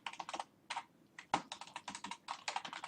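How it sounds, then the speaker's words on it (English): Fingers typing quickly on a computer keyboard, a continuous patter of soft close key clicks in uneven bursts with brief pauses, quiet and with no talking. "I'm just going to type that in"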